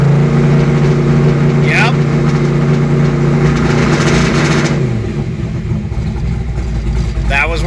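A car engine fitted with a Pertronix digital ignition runs loud and close in a steady, droning rev before the pitch drops and settles. Someone says a single word.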